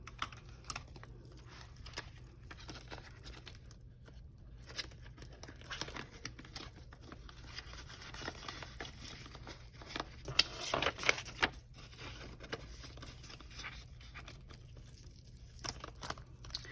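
Paper cash bills slide and crinkle into a paper envelope as it is filled, soft rustling and crumpling with a brief louder burst of handling midway, close and quiet, with no talk.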